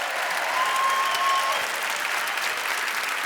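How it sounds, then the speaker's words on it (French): Steady applause from an audience at a magic show, dense and even throughout, with a faint whistle-like tone briefly over it early on. "venez, applaudissez très fort"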